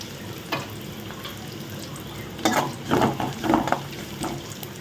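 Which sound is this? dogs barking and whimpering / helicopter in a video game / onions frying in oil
onions frying in oil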